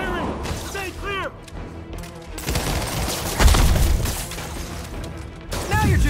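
Gunfire bursts from the video game Marvel's Spider-Man, rapid shots and heavy impacts cluttering a busy game mix, with character voices talking over the action throughout.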